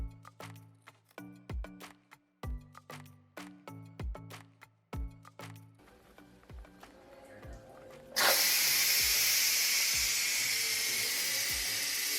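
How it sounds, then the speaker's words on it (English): Pressure cooker full of potatoes venting steam: a loud, steady broadband hiss bursts on suddenly and holds strong, after a stretch of softer clatter and rhythmic kitchen knocks. "I went ahead and let the pressure off of those potatoes"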